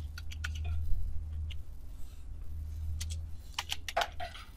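Code is typed on a computer keyboard, with quick bursts of close key clicks separated by pauses over a low background hum.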